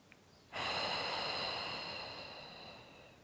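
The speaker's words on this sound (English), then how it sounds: "Start to become aware of your inhales and your exhales." One slow, soft breath during a seated chair yoga class for seniors, drawn in and then released evenly, close to the microphone and fading gently with no talking.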